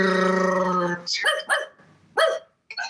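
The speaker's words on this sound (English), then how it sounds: "Get rid of the fucking dog." A dog growls with a long, low rumble up close, then breaks into several loud, snappy barks in an uneven burst.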